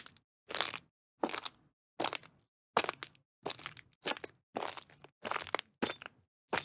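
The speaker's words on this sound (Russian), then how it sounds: "записал звуки битого стекла, которые в конце я подмешал к основным звукам шагов" Footstep sounds mixed with the crunch of a broken glass jar: about ten evenly spaced crunching, crackling steps in a steady walking rhythm, crisp and close, separated by silence, with no voices.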